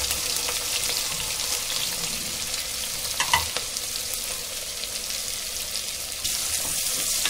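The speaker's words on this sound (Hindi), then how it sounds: "अब ये प्याज डालेंगे" Chopped onions sizzle in hot oil with cumin, bay leaf and whole garam masala spices, a dense crackling hiss with stirring clatter and a brief louder scrape partway through, close up and without speech.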